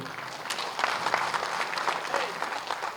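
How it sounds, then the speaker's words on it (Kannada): An audience at a Kannada film event for Sanju Weds Geetha 2 breaks into sustained applause, a dense wash of clapping from a crowd with faint voices mixed in. "ಅವ್ರಿಗೋಸ್ಕರ ನಿಮ್ಮೆಲ್ಲರೂ ದೊಡ್ಡ ಚಪ್ಪಾಳೆ ಇರಲಿ"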